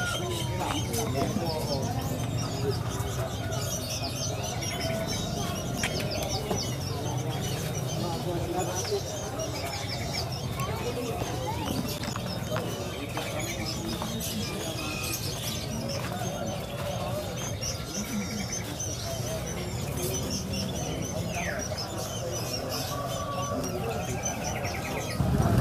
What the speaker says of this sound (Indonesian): melihat burung-burung yang di Jakarta sangat jarang ditemui